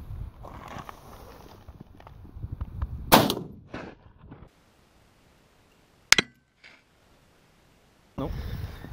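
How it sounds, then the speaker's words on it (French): A Mosin rifle fires a single sharp, loud shot into a double layer of bricks, following a stretch of faint rustling and background talk, with a second brief crack later and a burst of noise at the end. "deuxième tir au Mosin. Et cette fois donc 2 épaisseurs de briques"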